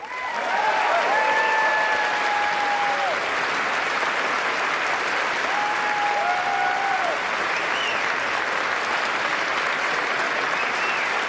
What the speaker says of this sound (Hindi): इतनी तालियां, इतने स्टैंडिंग ओवेशन